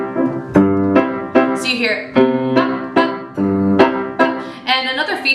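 Piano waltz rhythm: a low bass note on the first beat followed by two higher chords, repeating in a steady three-beat pattern, loud and close, with a brief spoken remark.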